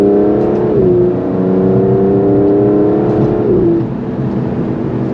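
Aston Martin DBS engine revving loudly through gear changes, a steady sustained drone with pitch rising and dropping at each shift, close and continuous throughout.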